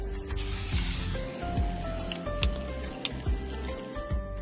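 Grated potato sautés in hot oil for street-style kacchi dabeli, giving a close, steady sizzle and hiss punctuated by scraping stirs of a utensil against the pan, with no talk.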